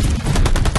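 Rapid video-game gunfire, a close, loud string of sharp automatic shots crackling in quick succession with no talking.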